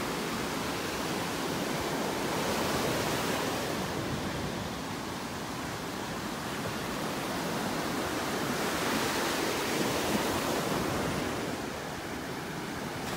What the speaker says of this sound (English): Darn wind still feels like it's coming in off the Gulf.